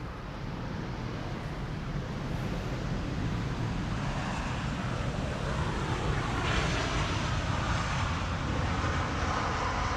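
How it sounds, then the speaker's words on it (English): A Turkish Airlines Airbus A350 lands at Amsterdam's Polderbaan runway on a windy day, its engines a loud, broad, continuous roar that swells slightly as it passes, with wind buffeting throughout. "the A350 from Turkish, arriving from Istanbul"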